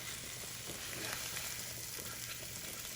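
Breakfast of bacon and eggs sizzles and crackles steadily in a pan, close up, with no talking.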